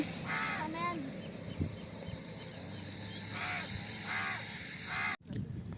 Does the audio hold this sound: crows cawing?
yes